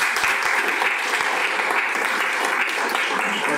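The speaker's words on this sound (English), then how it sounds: "I'm gonna ask that we do keep clapping to a minimum" A crowd at a city Common Council meeting claps loudly and steadily for a few seconds, with some individual hand claps standing out in the dense, sustained applause.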